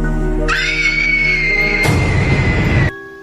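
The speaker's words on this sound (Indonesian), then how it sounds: "terdengar teriakan Riri." A girl's scream in the Indonesian horror film Danur: a long, piercing cry rises sharply, holds steadily, then breaks into a harsher, noisier shriek before cutting off abruptly. No speech is heard.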